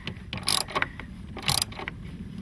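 A socket ratchet clicks while battery bolts are tightened on a 2012 Kia Soul, giving two short bright bursts of clicking about a second apart over a low background rumble.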